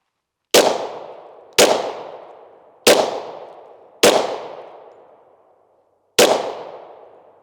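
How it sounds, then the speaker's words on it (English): Five 10mm pistol shots with 180 grain jacketed hollow point rounds fired into a soft body armor vest, loud sharp reports with ringing decays, the first four about a second apart, the last after a pause. "We're gonna shoot the back side of it now."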